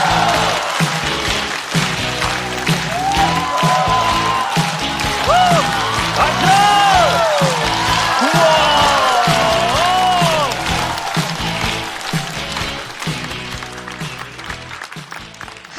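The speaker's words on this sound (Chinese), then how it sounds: "让我们掌声欢迎" Sustained applause and whooping cheers from a comedy club audience welcoming a stand-up comedian to the stage, steady and loud throughout with scattered whistles.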